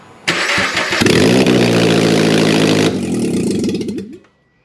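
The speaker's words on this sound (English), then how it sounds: "So the check engine lights will be turned on because I'm going to start it" A Subaru BRZ engine with an aftermarket exhaust manifold cranks and catches, then roars loudly with a deep, throaty exhaust rumble, idling rough before cutting off abruptly.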